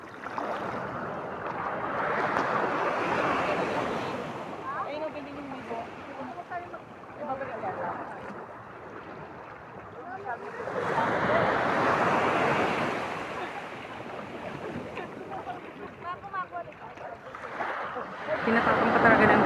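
Ocean waves breaking on a beach at La Union, with repeated swells of surf rising and falling over steady wind noise. People talk throughout.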